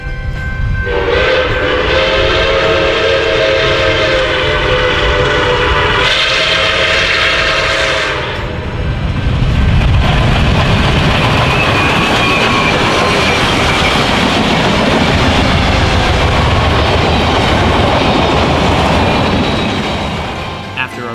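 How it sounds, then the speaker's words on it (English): The large steam locomotive 261 passes on the track, opening with a long, loud whistle blast in two parts, then a rolling roar of the train with rhythmic wheel clatter that fades toward the end. "the 261 was one of the most popular excursion locomotives in the United States"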